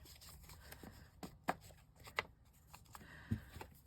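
Scissors snipping through paper card while making a hinged folder, a few quiet separate cuts and rustles close by, with no talk.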